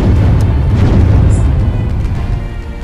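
Cannon fire from naval ships in the sailing video game Windward, a dense, continuous low booming rumble of overlapping shots that stays loud and steady throughout before easing slightly at the end.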